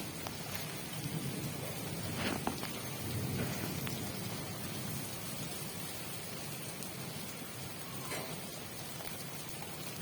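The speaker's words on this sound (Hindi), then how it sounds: "बारिश हो रही है, मेरे बच्चे ने बारिश देख ली है।" Steady rain falls in a continuous soft wash of drops at moderate distance, with no voices.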